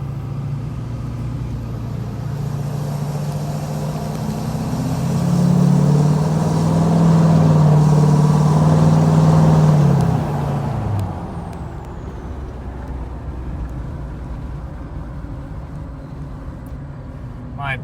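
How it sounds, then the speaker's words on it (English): A 2007 Chevy Silverado 2500 HD with an LBZ Duramax diesel and a 3-inch lift drives at low speed with the transmission still cold, its deep diesel drone swelling under gentle throttle mid-clip and then easing back to a steady cruise. "I figured just drive you around a little bit and let you hear the truck."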